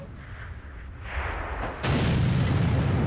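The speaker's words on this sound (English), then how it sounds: "So I'm going to take a pop." An artillery gun fires a shell in World of Tanks, a single loud booming blast near the middle that gives way to a sustained heavy rumble, over a low in-game background hum with no talk.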